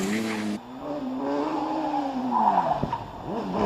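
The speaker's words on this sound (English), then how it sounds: "Slight oversteering moment in the entrance to the S's, recovered nicely" The 1-litre OMS Hornet, a small space-frame hillclimb car at Prescott, runs a steady, loud engine note that dips and swells as it oversteers into the S's, with a brief tyre scrabble near the end.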